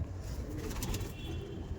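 Pigeons coo softly in a breeding-room loft, a low, faint burbling murmur over a few seconds with no voices.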